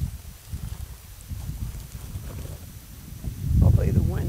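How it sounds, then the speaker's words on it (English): Wind gusts outdoors while meatloaf with stuffing is being prepared, a low rumbling buffet on the microphone that swells toward the end, with a voice talking over it. "Hopefully the wind doesn't blow my stuff away here."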